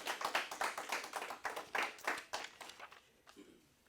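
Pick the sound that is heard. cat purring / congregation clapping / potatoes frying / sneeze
congregation clapping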